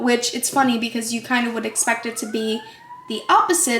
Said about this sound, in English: I'm so sorry if you hear a siren going on in the background.